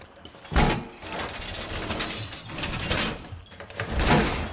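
A door is smashed through in Rainbow Six Siege, several loud rough impacts and crunching, scraping bursts spread across the moment, close and forceful.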